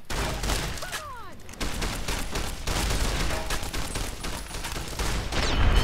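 Rapid gunfire from hostile fighters in Fallout New Vegas, a near-continuous fusillade of loud, overlapping shots and bursts filling the whole stretch, with a brief lull partway through.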